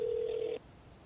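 A phone ringback tone sounds during a call, a single steady electronic tone lasting about half a second before cutting off to quiet.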